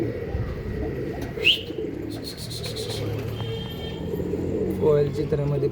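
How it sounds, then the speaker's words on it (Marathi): Pigeons in a breeding loft coo steadily, soft low repeated calls layered close together, with a few sharper chirps and someone speaking over the flock. "कोयल चित्रामध्ये पण कबूतर आहेत बघा।"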